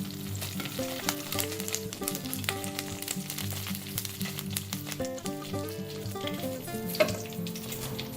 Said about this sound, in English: Let's saute the curry leaves now.